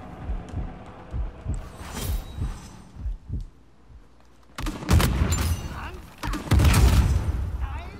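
Gunfire in the Uncharted 4 multiplayer video game, several loud bursts of shots and booms in the second half, with softer thumps and game noise earlier and a voice talking over parts of it.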